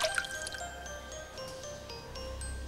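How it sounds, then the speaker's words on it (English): Tiny drops of water falling from a ceiling into water below, heard as sparse, clear drip plinks with a faint ringing tone over a quiet indoor background. "I can hear dripping water."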